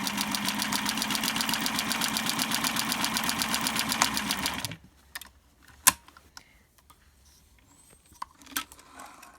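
Domestic sewing machine stitching a running stitch, a fast steady mechanical chatter up close that stops abruptly about halfway, followed by quiet handling clicks and knocks.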